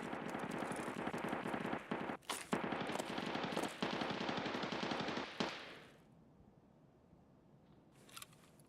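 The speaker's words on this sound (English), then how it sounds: "That shooting's super weird." Gunfire in the Escape From Tarkov video game crackles in dense, rapid automatic bursts for about five seconds, then cuts off to near silence before a faint brief shot.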